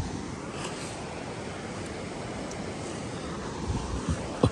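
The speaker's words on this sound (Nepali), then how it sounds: "यहाँ अरुण नदी यो चाहिँ ठ्याक्कै कोशी सप्तकोशीमा मिक्स हुन्छ" The Arun river in Bhojpur, near where it meets the Sapta Koshi, rushes in a steady broadband wash of flowing water, moderately loud and unbroken, with no voices.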